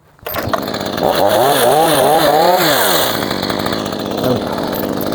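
A chainsaw revs up loud and close, its engine pitch rising and falling as it bites into firewood, then holding at a steady high drone.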